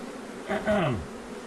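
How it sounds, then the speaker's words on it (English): Killer bees hum around an infested hive inside a shed, a brief swell of buzzing that rises and sweeps past close by for about half a second before settling back under a steady background drone. "Damn these bees."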